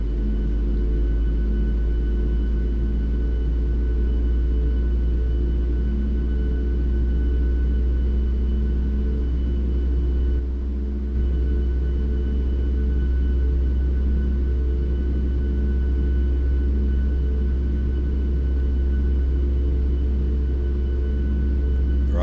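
Steady low rumble and whine of a Boeing 737 MAX 8 engine spooling up during start in a flight simulator, a continuous drone holding level throughout with no talk.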